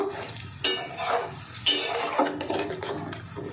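Vegetables being stirred and mixed in a hot pan after warm water is added, with repeated scraping spoon strokes over a soft simmering sizzle, close and steady, with no voices.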